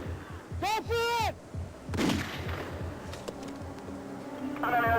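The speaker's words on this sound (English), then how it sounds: "1199 shots fired. Suspect down." Police officers fire gunshots at an armed suspect during a roadside confrontation, producing a few sharp loud reports among sirens and shouting voices.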